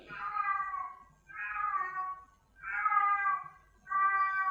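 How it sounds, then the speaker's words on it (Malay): A cat in mating season meows loudly and insistently, four long drawn-out wailing calls in steady succession with short pauses between, close and clear with no other sound. "Kucing saya tengah musim mengawan, so agak bising sikit."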